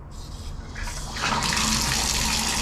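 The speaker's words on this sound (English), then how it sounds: "how you turn on the water in the bathtub or for the shower" Water from a bathtub tap or shower runs steadily, starting softer and swelling into a louder, fuller gush after about a second, with no talking.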